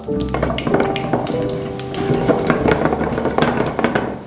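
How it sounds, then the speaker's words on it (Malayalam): Mustard seeds pop in hot oil in a pan while vermicelli upma is prepared, giving scattered sharp crackles and taps over a steady sizzle, close by. "കടുകെല്ലാം പൊട്ടി വരുന്നുണ്ട്."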